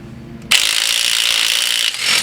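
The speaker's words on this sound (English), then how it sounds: "now finally we can let the impact do its work." An impact wrench rattles loose a crank pulley bolt during a lightweight crank pulley install, a loud continuous buzzing hammer that starts abruptly and runs steadily for about two seconds with a brief dip near the end.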